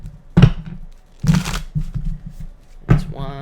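Three brisk bursts of tarot cards being riffled and shuffled, each a quick crisp flutter, separated by short pauses with faint background murmur.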